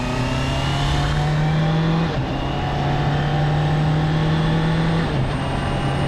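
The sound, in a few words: Honda CB650R motorcycle accelerating and upshifting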